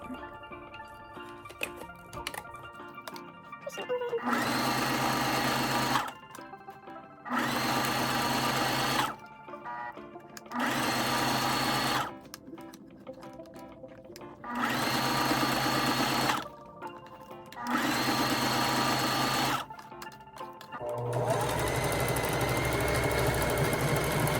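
A sewing machine stitching a DIY fabric face mask, running in five bursts of steady close whirring separated by short pauses with small handling noises, then running again at the end.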